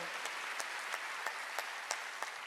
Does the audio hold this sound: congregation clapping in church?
yes